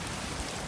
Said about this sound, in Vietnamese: Giờ mưa lớn rồi.